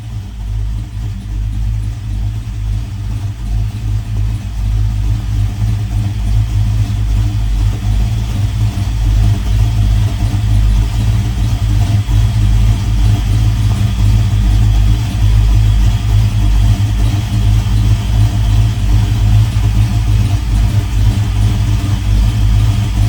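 A 1985 Chevy C10 engine fitted with ACES EFI runs at a steady, loud, close rumble with a deep low drone and no talk.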